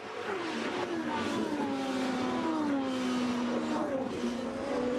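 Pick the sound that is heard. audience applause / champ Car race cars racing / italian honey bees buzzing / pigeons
champ Car race cars racing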